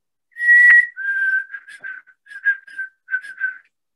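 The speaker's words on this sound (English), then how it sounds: "The white-throated sparrow has a sweet, pure whistle song" White-throated sparrow song: a clear, sweet, pure whistled phrase opening on a long held note, followed by a series of shorter wavering whistles, loud and close with no other sound.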